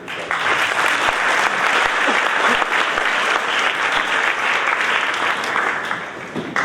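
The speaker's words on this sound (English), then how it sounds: "Could we give her a round of applause?" A school assembly audience claps in a sustained, even round of applause that starts abruptly, stays loud throughout and tapers slightly at the end.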